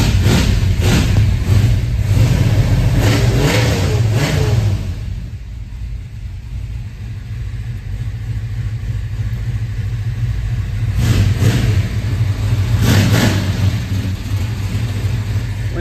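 A 1970 Chevelle with a built engine runs loud and close, a deep steady rumble that swells with revs, eases to a lower idle in the middle, then rises again.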